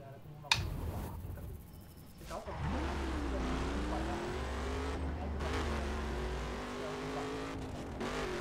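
A car engine revving and accelerating in the racing video game The Crew during a police chase, a loud, continuous roar with rising and falling pitch and a sharp bang near the start.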